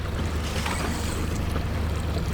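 Fishing boat motor running steadily while trolling for lake trout and salmon on fresh water, a loud, continuous low rumble with wind and water wash and no talking.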